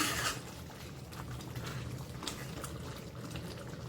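A cashew and green pea curry with potatoes simmers in a pot, giving a soft, continuous bubbling and liquid burble close by, fairly quiet and steady, with no voices.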